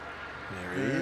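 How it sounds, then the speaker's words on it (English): Airbus A321neo airliner rolling for takeoff on flight 526 to Sydney at Melbourne Airport, a distant rising jet-engine roar that swells steadily in the final half-second. "Remember I said there was a 21 Neo going out? Yes. Yep, he's just rolling now."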